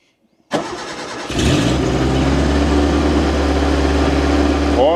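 A Suzuki engine that sat for over ten years cranks briefly, catches and fires up, then holds a loud, steady, rough run close by, with a faint voice near the end.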